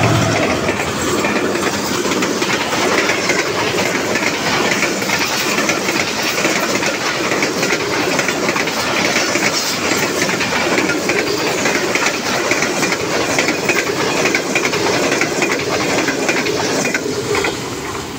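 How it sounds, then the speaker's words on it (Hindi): The Karachi Express passenger train, hauled by locomotive G49053, rushes past at speed, a loud, close, continuous roar with rapid clickety-clack of wheels over rail joints throughout. "ज़बरदस्त स्पीड के साथ आ रही है 15 आप कराची एक्सप्रेस"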